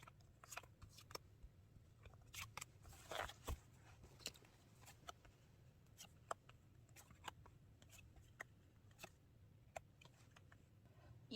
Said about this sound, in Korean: 그럼 2번 분 셔플 할게요